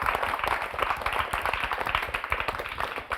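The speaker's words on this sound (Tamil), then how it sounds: "ஒரு அரங்கம் நிறைந்த கைத்தட்டல கொடுத்துடலாம்" A hall audience at a Tamil speech competition gives steady, rhythmic applause for parents and teachers, dense hand claps close and continuous throughout.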